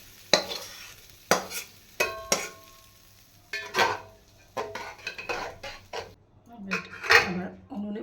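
Chopped tomato and spices are added to a hot pan and stirred, giving clanking spoon-on-pan strikes and scraping stirs with a faint sizzle, loud and close, in irregular bursts.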